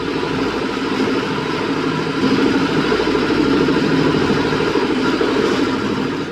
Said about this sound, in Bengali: ছুটছে আমাদের ট্রলার উজান ধরে